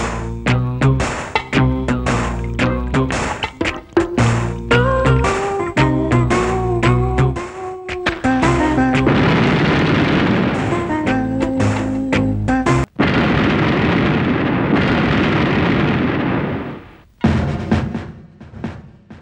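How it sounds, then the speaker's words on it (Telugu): A petrol bomb goes off in a comedy scene set in the Godavari district, a sharp blast followed by a long roaring rumble and debris noise, loud and close after music. "ఎక్కడో గల్ఫ్ కంట్రీలో పేలవలసిన బాంబు మన గోదావరి జిల్లాలో పేలటం ఆశ్చర్యంగా ఉంది"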